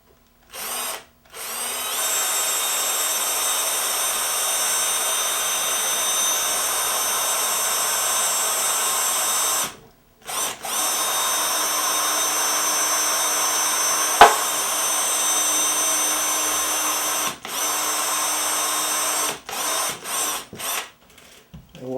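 A power drill whines steadily at close range, drilling out a rivet on a diecast model car, running in long continuous bursts broken by brief stops and several short on-off pulses near the end.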